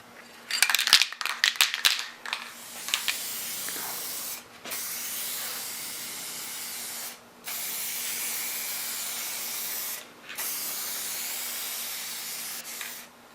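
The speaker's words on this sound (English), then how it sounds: "as we spray the coil, you find a point of reference" A protective coating is sprayed onto an HVAC coil in long, steady hissing bursts broken by brief pauses, after a few short clicks and rattles at the start; close and even, with no talking.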